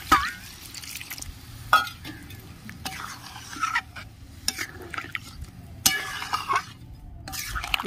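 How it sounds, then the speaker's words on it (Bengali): Water goes into a pan of cooking chicken curry, with sizzling, splashing and the scrape and knock of stirring in irregular bursts, close by, with some talking. "এবার পরিমাণ মতো জল দিয়ে দিচ্ছি।"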